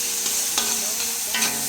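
Garlic, onion and ginger with tomato sautéing in a pan, a steady broadband sizzle with a few stirring scrapes, close and continuous, no voices.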